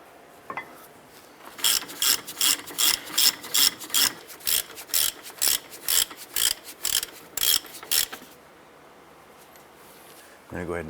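A hand ratchet clicks in a run of about fifteen sharp, evenly spaced strokes close by while caliper bracket bolts are tightened on a 2005-10 Jeep Grand Cherokee during a wheel bearing and hub job.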